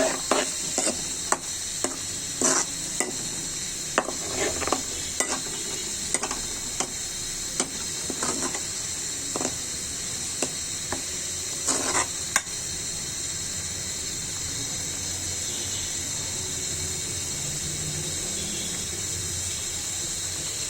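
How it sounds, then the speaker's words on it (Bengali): A Bengali spice paste of onion, garlic and ginger for rohu fish fries in a pan with a constant close sizzle. Irregular scraping stirs run through the first half, then the sizzle continues alone. "আমি পেঁয়াজ দিয়েছি বেশি করে রসুন আদা পরিমাণ মতো দিয়েছি মশলাটা কষিয়ে নিচ্ছি ভালো করে"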